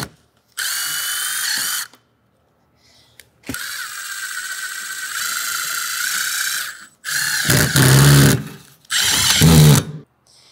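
Sheet metal screws being driven with a power drill during cold storage panel installation: four loud whirring bursts separated by pauses, with the last two deeper and strained as the screws seat.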